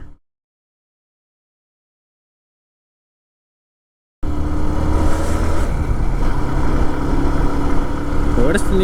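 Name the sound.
pickup vehicle engine running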